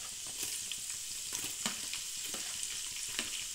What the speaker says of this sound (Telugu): ఇప్పుడు పచ్చిమిరకాయ ముక్కలు వేసుకుందాము.